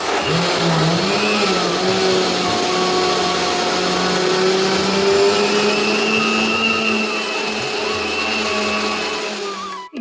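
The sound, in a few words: mixer grinder running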